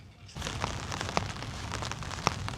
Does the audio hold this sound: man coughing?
no